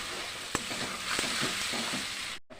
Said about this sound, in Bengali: দেওয়ার পর এবারে আমি খুব সুন্দর করে এটাকে কষিয়ে নিচ্ছি।